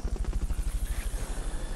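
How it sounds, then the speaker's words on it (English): Helicopter rotor from the Metal Gear Solid video game, a steady rapid thumping pulse holding an even beat throughout. "Fulton recovery helicopter is complete."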